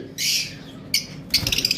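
A pair of lovebirds sends out bright, near bursts of high chirping, first a longer squawky call and then a run of quick repeated tweets, with no talking.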